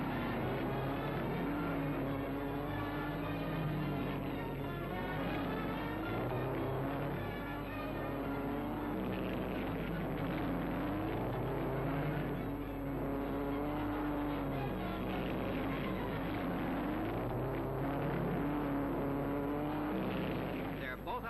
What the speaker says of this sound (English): More thrills with the big cars as they speed like rockets around the saucer.